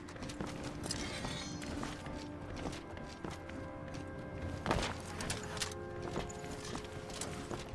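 Hooves clip-clop in a steady walking rhythm in a video game, fairly faint, with a horse whinny partway through and no talking.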